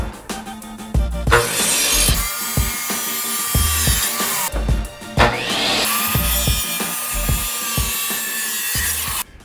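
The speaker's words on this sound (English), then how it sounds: "then you miter cut this side here" A power saw mitre-cuts the edge of a ceramic wall tile for a modern shower niche, giving two loud, sustained, grinding cutting passes with a short break between them, close by and with no talking.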